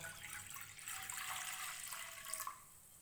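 Water splashes and pours steadily into a nonstick pan for a few seconds, a bright rushing sound close by, tapering off near the end.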